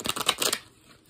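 A quick riffle of cards being shuffled, a rapid burst of crisp flapping clicks that stops abruptly.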